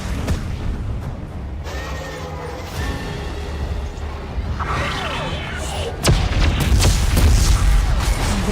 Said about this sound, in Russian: Ой, взрывы.